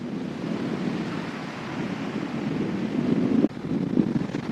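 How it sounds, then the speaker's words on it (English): Wind buffets an outdoor microphone near the SpaceX Starbase launch site in Texas, a steady loud rumbling roar with surf-like washing that dips sharply for a moment near the end before resuming. "The wind is directly from the SpaceX direction, so I'm using the umbrella a little bit on the mic."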